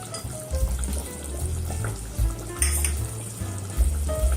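Chicken handi frying in a pan as chopped coriander leaves go in, a close crackling sizzle with occasional spoon and pan knocks and low thumps.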